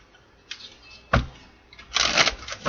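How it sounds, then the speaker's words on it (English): Tarot cards being shuffled in a few short riffling bursts, the longest near the end, close and moderately loud with quiet pauses between. "Let's do 2 more shuffles."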